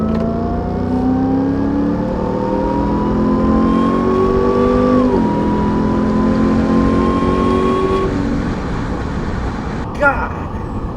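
A 2021 RAM 1500 TRX off-road pickup truck's engine revs loudly and accelerates close by, its pitch climbing steadily, dipping with a gear change midway, then rising again before easing off near the end.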